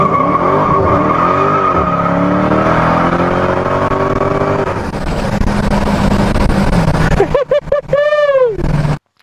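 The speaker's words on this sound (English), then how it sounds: "one hell of an epic burnout" A Dodge Challenger Hellcat does a loud burnout: the supercharged engine roars and climbs in pitch for several seconds, then the tires screech in sharp, wavering squeals up close before the sound cuts off.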